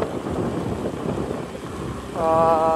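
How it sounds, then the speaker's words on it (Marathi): Steady monsoon rain patters all around at moderate volume in the Konkan countryside, a low rushing wash that holds throughout, with a brief tonal hum rising near the end. "पाऊस चालू आहे"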